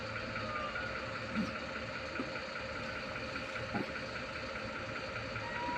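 A ready-mix concrete truck's diesel engine idling at a road construction site, a steady low rumble with a constant hum, continuous and moderately distant, with no talk.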